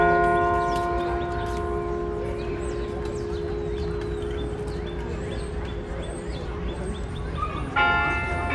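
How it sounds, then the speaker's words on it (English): A bell on a Central Park clock, struck by mechanical monkey figures, rings with long sustained tones and is struck again near the end, while birds chirp faintly in the background outdoors. "You can see the monkeys banging on the bell by the clock."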